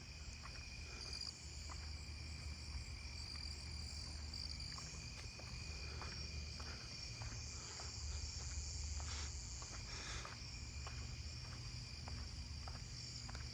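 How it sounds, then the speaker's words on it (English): Narrow-winged tree crickets chirp on all sides at night in a suburban neighbourhood, forming a dense, steady insect chorus with regular pulsing calls that hold at an even, moderate level throughout, with no voices. "I'm hearing narrowing tree crickets just all around me right now"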